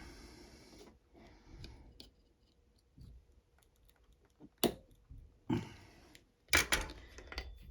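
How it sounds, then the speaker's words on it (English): A screwdriver works a stubborn screw loose on a Bridgesew sewing machine, giving quiet, scattered metallic clicks with a few sharper clanks near the end in an otherwise hushed room. "Okay, so I've loosened the screw after 2 or 3 tries"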